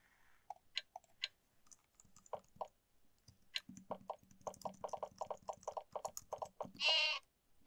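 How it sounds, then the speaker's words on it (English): Scattered clicks and taps, then a short sheep bleat near the end in the video game Exile III: Ruined World, faint and alone with no talking. "And you have sheep!"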